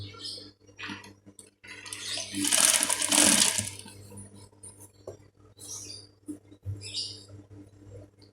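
Sewing machine stitching children's clothing fabric, a short whirring run of about a second and a half amid quiet handling clicks and rustles.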